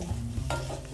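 Shallots stirred in a reduction in a pot for hollandaise sauce, a close, continuous scraping stir over a soft sizzle, with no voices.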